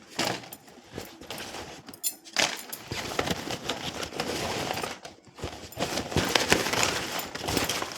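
Tarot cards shuffled by hand in a steady run of papery riffles and soft slaps, close and fairly loud, with brief pauses between bursts and no talking.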